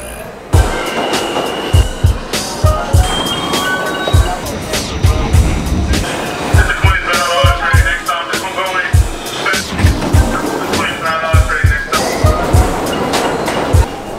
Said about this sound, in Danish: Så skal vi med metro.